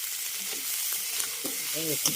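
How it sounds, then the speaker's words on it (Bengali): Steady oil sizzling and crackling from tiny pond fish frying against the sides of a wok, with a few brief background sounds and a short voice-like tone near the end. "মাছ কিন্তু কড়াইয়ের গায়ে ভেজে দিচ্ছি"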